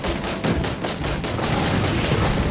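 Rapid turret gunfire from the Battlefield 1 video game, a dense, continuous burst of loud shots close by with no talk over it.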